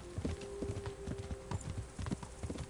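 Horse hooves trotting in Kingdom Come Deliverance, brisk regular clip-clop beats close and clear, with a steady faint tone underneath and no talk.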